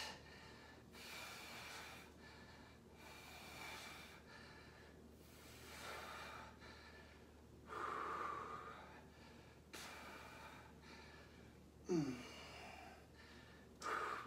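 Heavy rhythmic breaths, sharp exhales and gasps repeat every second or two during a resistance band workout at home. They stay fairly faint, with a few louder puffs near the end.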